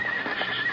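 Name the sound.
horses neighing outside schoolhouse, radio drama effect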